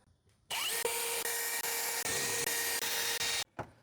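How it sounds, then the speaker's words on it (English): A drill pre-drilling pilot holes in wooden stair treads runs in short, rapid bursts, whining and grinding with brief pauses between pulses, loud and close. "just pre-drilling pilot holes so the screws don't booger up the treads"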